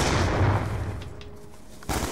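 A first-person shooter video game plays a loud burst of gunfire that quickly fades. Another sharp shot cuts in just before the end.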